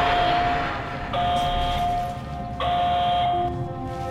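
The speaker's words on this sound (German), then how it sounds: "Und geht der Alarm an, wenn ich hier reingehe." An alarm in the video game Portal Stories: Mel sounds as a steady electronic tone that cuts on and off in long blocks, with a buzzy background hum running underneath throughout.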